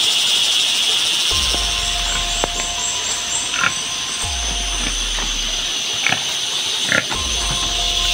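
Pig grunts and squeals, apparently from a stolen pig, recur as short bursts through a noisy game-like soundscape with low rumbling booms and a steady high hiss, no talk.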